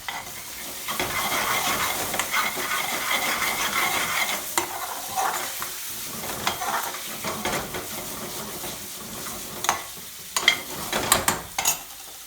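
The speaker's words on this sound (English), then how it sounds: "So I'm just cooking this curry" Chicken aloo curry, Madras hot, in BIR restaurant style, being stirred and fried in a pan at home: a steady, loud sizzle with repeated scraping stirs and occasional clinks of utensil on pan.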